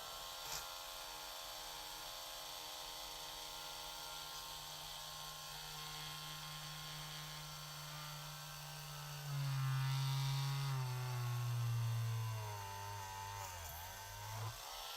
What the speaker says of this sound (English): we're gonna drill right down the center